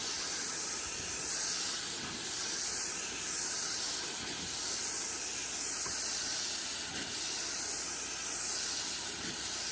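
Pressure washer rinsing grime off a surface before painting, a steady loud broadband hiss of spray that swells and eases in a slow repeating rhythm as the wand sweeps back and forth.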